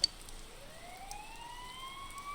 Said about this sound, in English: Oh man, the sirens!